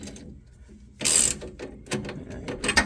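A ratchet fitted with straight-through sockets turns a bolt during a U-bolt flip kit install on a 2000 Toyota Tundra, giving a quiet pause and then a burst of close, rapid clicking strokes.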